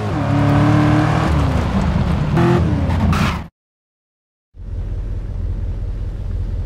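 Fast car engine from GTA San Andreas, a steady loud drone with a whir, cutting out for about a second of silence before resuming.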